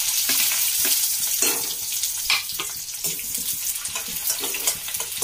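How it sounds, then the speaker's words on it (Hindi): Chopped onion added to hot oil in a pan with chillies, giving a loud, continuous sizzle and crackle up close with scraping stir sounds, and no voices. "अब हम डालेंगे इसमें प्याज।"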